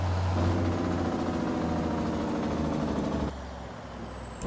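Volvo truck engine in a driving video game, a loud steady diesel rumble with a high whine, easing off near the end as the exhaust brake toggles.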